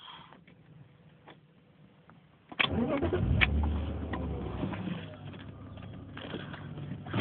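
A BMW E36 328is with a worn M52 engine, quiet apart from faint ticking, cranks and catches abruptly into a loud, rough idle that rumbles on close by and settles slightly.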